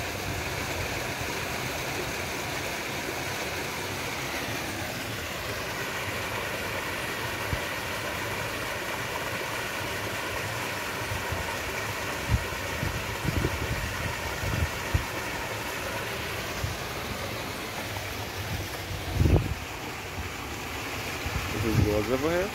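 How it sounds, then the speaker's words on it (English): George River flows near a footbridge at Bathsheba, Barbados, a steady wash of water heard with a low engine-like hum underneath and a few louder knocks and splashes later on. "So this is George River looking back to the footbridge."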